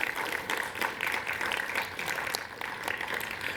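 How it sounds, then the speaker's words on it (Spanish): Audience applause at a youth public policy forum, honoring the San Luis Potosí campus: steady, dense clapping from a crowd that holds at an even level throughout without breaks. "por quien les pido un fuerte aplauso,"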